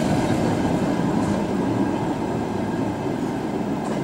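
A passenger train bound for Yekaterinburg rumbles steadily at a station stop, a continuous loud low roar with faint clatter and no voices.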